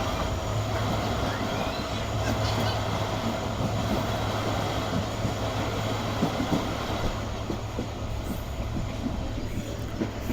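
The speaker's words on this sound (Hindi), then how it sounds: "हमारी ट्रेन मीटिंग रेलवे स्टेशन से निकल रही है" A passenger train on the Mirpurkhas to Karachi line pulls out of Meeting railway station with a steady, close rumble of wheels on track, a low engine hum and faint rhythmic clicking throughout.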